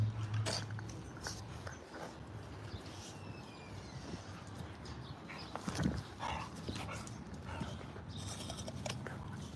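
Bully breed dog outdoors making a brief whimper amid scattered lapping and shuffling noises, with low background rumble and no talk.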